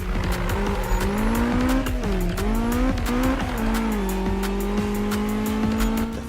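Race car in Need for Speed lapping a circuit: a loud, steady engine drone with shifting pitch as the car hunts between gears, overlaid by continuous tire squeal and skidding close up.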